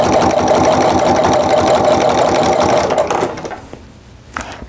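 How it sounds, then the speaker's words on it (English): A sewing machine fitted with a walking foot quilts a small mug rug, running loud and steady with a dense mechanical whir for about three seconds, then slowing and stopping, followed by a faint click. "So I'm just using that walking foot and quilting right next to that ditch."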